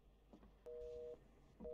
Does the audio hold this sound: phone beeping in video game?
yes